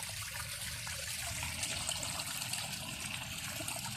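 Water runs and trickles away down a drain, a steady continuous wash of flowing liquid that stays even in level for the whole stretch, with no voices over it.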